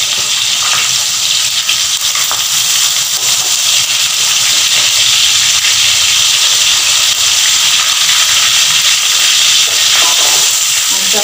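Fish fries in a pan with both sides cooked, a loud, steady sizzle and hiss that fills the whole stretch with no break.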